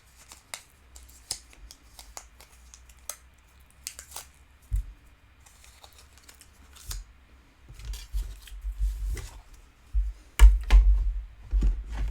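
Scissors cut through autumn-themed decorative paper for a craft box, with soft, close snips and rustles that grow busier and louder toward the end.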